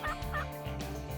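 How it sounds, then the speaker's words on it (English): A wild turkey gobbles during a spring hunt, a clear rattling gobble heard at moderate distance with a couple of quick repeated bursts, with no talk over it. "He'd gobble at every call I made, but wasn't closing the distance."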